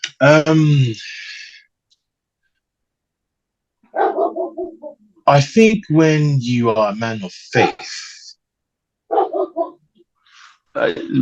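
A dog barking indoors, repeated sharp barks in uneven bursts, loud and close, breaking in between and over a conversation between two people.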